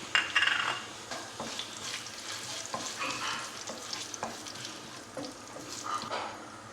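Cumin seeds and two dried red chillies frying in a pan, a soft crackling sizzle with scattered clicks and scrapes from stirring against the metal, fairly close and steady.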